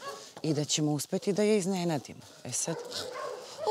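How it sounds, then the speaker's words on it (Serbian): Village dogs bark and yip nearby in a short burst, mixed in with people talking over them. "Prilazimo i svi psi su počeli da laju."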